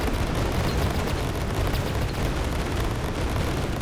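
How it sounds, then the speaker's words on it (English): A cluster bomb goes off in the video game Greedland, a loud, dense rumbling roar of overlapping blasts that stays intense for about four seconds, with no talking over it. "Use the cluster bomb."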